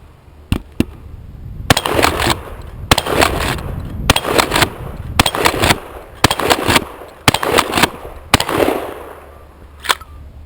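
A Remington 870 Tactical 12-gauge pump shotgun with a full choke fires at a steel plate rack outdoors: about seven loud, sharp blasts spaced a second or so apart, with a pump rack and faint plate clangs between them and no talk.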